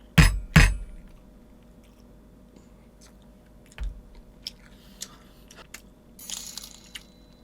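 Mukbang-style eating of tteokbokki, with two loud close bites at the start followed by quieter chewing, faint clinks and soft wet mouth sounds over a low background hum.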